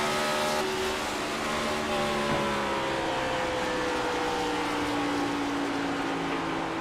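A race car engine drones steadily at a distance at Darlington, its pitch sliding down as it shifts down to fourth gear, with broadband crowd or track noise throughout.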